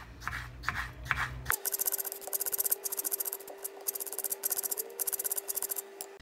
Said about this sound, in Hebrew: עכשיו נחתוך את העגבניה.